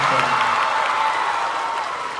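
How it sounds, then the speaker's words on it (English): An audience claps together in a sustained burst of applause at a live talk, a dense, even patter of many hands filling the room for a couple of seconds. "Let's get a round of applause for that."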